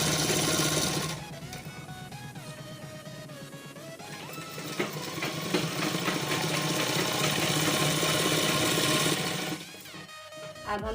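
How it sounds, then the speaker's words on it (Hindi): A sewing machine runs steadily, double-stitching a seam on salwar fabric for extra strength, its close, continuous whirring motor sound lasting about nine seconds before slowing and stopping. "अब हम इसे डबल सिलाई कर देंगे ताकि ये थोड़ा पक्का हो जाए।"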